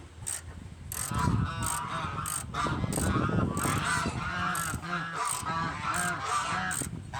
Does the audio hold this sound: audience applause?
no